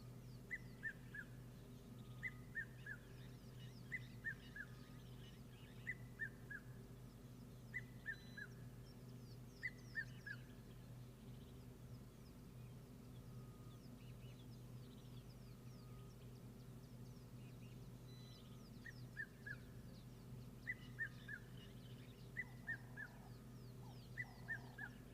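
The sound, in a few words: migratory birds calling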